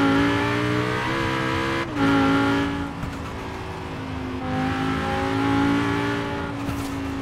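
Audi RS6 fitted with a V10 engine driving in the racing game Forza Horizon 4, a steady loud engine drone with rising revs, a brief shift dip near two seconds and continuous harmonic whine, no voices.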